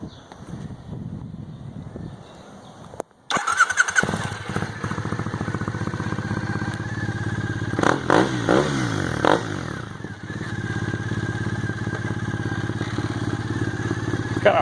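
A Triumph Thruxton 900 motorcycle with an aftermarket exhaust starts up after a quiet moment, then settles into a loud, steady, close-up idle with a few throttle blips and some clatter.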